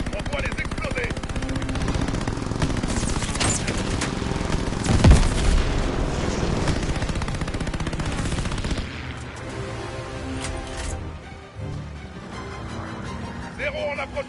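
Rapid bursts of machine gun fire rattle through an air combat sequence in the video game Call of Duty: Vanguard, loud and dense with booms mixed in, easing off toward the end.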